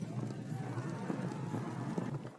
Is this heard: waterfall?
no